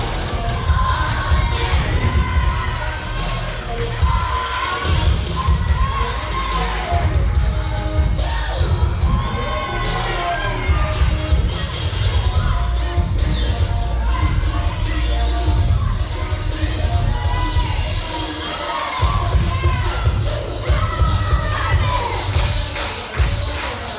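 Crowd in a school gym at a cheerleading championship in Dallastown, clapping and cheering loudly and continuously for over twenty seconds, with shouts and thumps over a dense roar.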